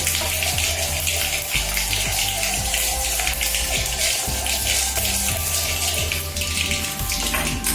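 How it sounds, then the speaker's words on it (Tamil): Heavy rain pouring outside a kitchen window, a dense, steady hiss of falling water that stays loud and unbroken throughout, with a few faint clinks and taps beneath it. "வெளியில நல்ல மழை பெய்யுது, சரியான மழை."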